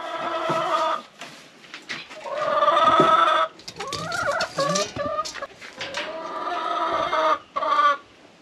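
Chickens cluck and squawk inside a chicken coop, a busy mix of overlapping calls from several birds, loud and near, with brief pauses between bursts and no talking.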